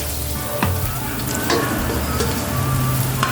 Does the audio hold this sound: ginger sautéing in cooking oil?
yes